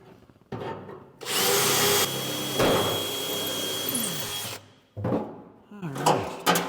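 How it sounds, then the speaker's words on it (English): A power drill whirs loudly and steadily for a few seconds close by, drilling spot-weld holes in the sheet-metal body of a Porsche 356, stopping and starting, with brief talking around it. "Going to drill"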